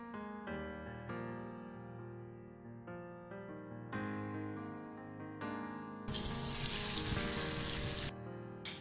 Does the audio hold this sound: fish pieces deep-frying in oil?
yes